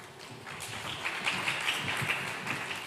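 Audience applause at a women-in-fintech leadership event, steady dense clapping throughout with some brighter sharp claps and faint cheering mixed in.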